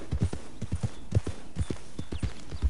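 Horse hooves clip-clopping in the Red Dead Redemption 2 video game, a quick rhythmic series of moderately loud thuds from a trotting horse, steady throughout with faint background ambience.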